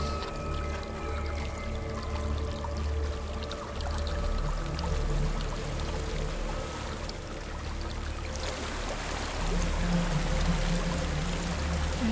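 Water flows steadily in Hellblade: Senua's Sacrifice, a continuous rushing stream that sits at moderate loudness under a low ambient drone and swells somewhat louder toward the end.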